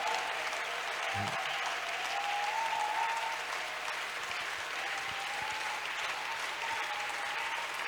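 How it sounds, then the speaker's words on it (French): A church congregation claps steadily through a service, a dense, continuous wash of applause from many hands that holds at an even level without a break. "When you decide to clap, don't stop, do it well."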